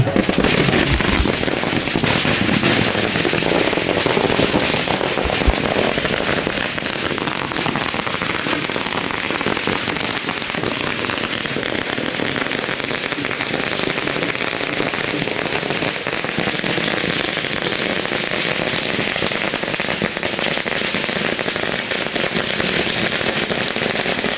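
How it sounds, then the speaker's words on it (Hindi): Strings of firecrackers set off during a BJP victory celebration at party headquarters, a dense continuous crackle of rapid pops filling the whole stretch without pause, loud and close. "पटाखों की लड़ियों में अब आग लगाई जा रही है।"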